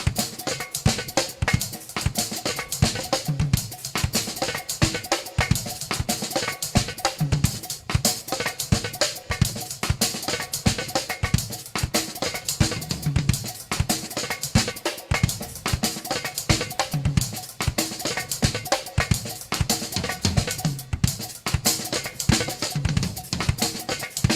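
Drum kit polyrhythm with fourteen hand strokes set against eighteen kick-drum beats: busy, tightly packed cymbal and snare patterns over steady low bass drum pulses, loud and close throughout, played alone without talk.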